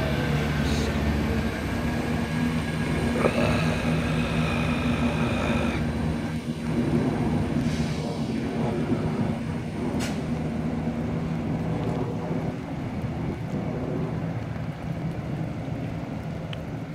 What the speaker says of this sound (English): And now 168003 is now ready to depart,